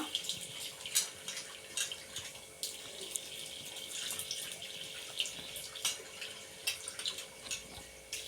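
Tap water runs steadily into a sink while lentils and rice are rinsed, a soft continuous splashing with occasional small knocks, fairly faint and with no voices.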